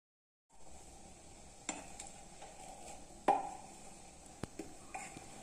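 Jaggery syrup hisses faintly in a pan on the stove as it is poured and stirred, with a soft constant sizzle broken by a few sharp clinks of a utensil against metal.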